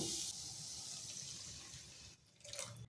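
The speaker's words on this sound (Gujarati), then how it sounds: "હવે આપણે મસાલાની અંદર 1 વાટકી પાણી ઉમેરીશું।" A bowl of water is poured into a spice mixture, giving a soft, quiet splashing pour that trails off, followed by a brief faint slosh.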